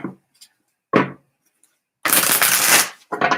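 Tarot cards being shuffled in short bursts, a brief riffle near the start, then a longer, louder papery shuffle followed by another quick burst, close and clear with no talking.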